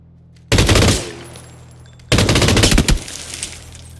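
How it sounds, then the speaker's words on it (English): Machine gun fire in the video game PUBG, two loud rapid bursts of automatic shots, each trailing off into a reverberant tail, with no speech over them. "Machine gun."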